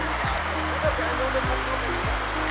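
A river in Kashmir rushes with a steady broadband roar, heard under someone talking close by.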